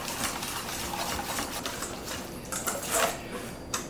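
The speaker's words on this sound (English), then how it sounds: "now that we have everything together, we're going to whisk it up" Marinade for smoked Peruvian chicken whisked in a bowl, a steady close scraping and clinking churn running throughout with no speech.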